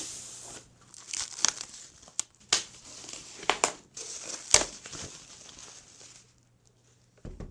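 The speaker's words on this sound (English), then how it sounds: "But let's go ahead and unwrap the console." Plastic wrap is peeled and torn off an Xbox Series X console, with close, sharp crinkling and tearing bursts coming in irregular spurts over several seconds.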